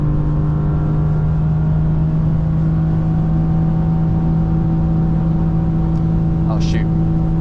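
An automatic BMW E36 M3 held in 3rd gear drones at sustained high revs near its top speed, a loud steady engine hum with constant road and wind roar from inside the cabin, with a couple of faint chirps near the end.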